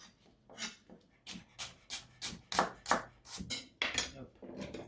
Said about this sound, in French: On prend son couteau, on vient ici, hop, et on émince.